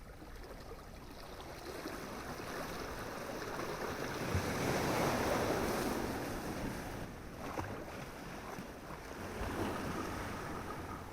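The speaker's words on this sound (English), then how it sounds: "the sounds of the sea filled Joel's ear, courtesy of a dusty, beat-up boombox on the bookshelf" Sea waves play from an old, dusty, beat-up boombox on a bookshelf, giving a steady rushing surf that swells and recedes, with no voices.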